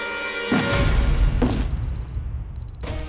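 A small electronic watch alarm beeps in steady, rapid pulses with brief breaks, with some muffled bumps and handling noise underneath.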